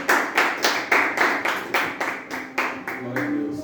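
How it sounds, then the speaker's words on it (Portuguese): A church congregation claps along in a steady, even rhythm of about three claps per second, loud and close, at a worship service. Voices can be heard faintly beneath. "Vamos receber a serva do Senhor com palmas bem alegres para Jesus"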